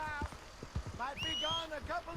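Horse hooves clip-clopping in Red Dead Redemption 2, a quick uneven run of close, dull thuds, with game character dialogue over the top.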